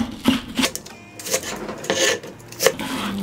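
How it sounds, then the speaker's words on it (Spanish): A kitchen knife cuts a large green onion into strips, giving a run of crisp, uneven scraping and chopping strokes, close and fairly loud, with brief pauses between cuts. "Aquí está mi cebollín grande. Lo voy a cortar en tiras"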